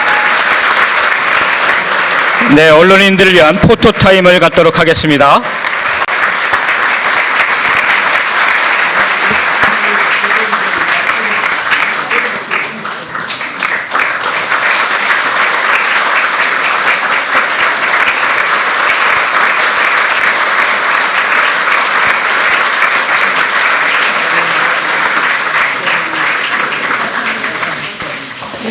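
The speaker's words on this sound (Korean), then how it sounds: "여러분 축하의 박수 크게 부탁드리겠습니다." Sustained loud applause from a crowded party gathering honoring newly elected National Assembly speaker and deputy speaker candidates, continuous clapping throughout with a brief spoken announcement near the start.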